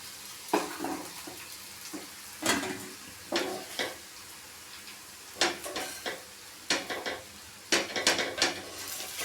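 A dosa cooks on a hot pan with a soft, low sizzle beneath intermittent sharp clacks and scrapes of a utensil against metal, heard close and fairly quiet, with no voices.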